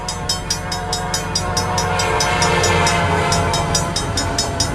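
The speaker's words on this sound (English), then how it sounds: "And the train has arrived." A train rolls in at a rail yard on an RO-scale route between Horsethief Rail Yard and a nearby city, a loud continuous rumble with a regular clickety-clack of wheels and a sustained horn tone.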